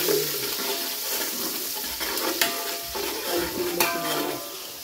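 Onion sizzling in a hot pan with scraping stirs and a couple of sharp clinks of a utensil against the pan, steady and close throughout.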